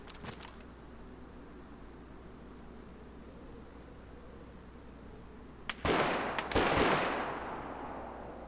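Enemy gunfire in DayZ: a sharp distant shot at the start, then a quiet stretch before a burst of loud cracking shots that ring out and fade into reverberation.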